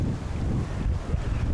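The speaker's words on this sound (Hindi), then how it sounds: "बल्कि आवाज़ें भी आ रही होंगी हवा की।" Steady wind buffeting a microphone beside a canal, a continuous low rumbling roar with no pauses and no talking.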